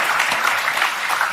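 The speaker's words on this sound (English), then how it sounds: "The View's crowd is actually applauding at that" Studio audience of The View applauding, a brief, dense, even burst of many hands clapping heard on its own.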